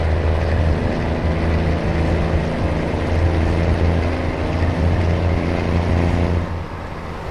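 A truck engine in Euro Truck Simulator 2 drones loud and steady, a deep continuous hum that holds throughout before easing slightly at the end, with no talk over it.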